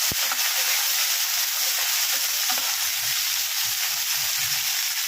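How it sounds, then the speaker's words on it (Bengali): Okra frying in hot oil in a pan gives off a loud, dense, steady sizzle that fills the whole stretch, with a few faint clicks beneath it and no talking. "আগে আমি ঢ্যাঁড়সগুলোকে ভেজে নিচ্ছি।"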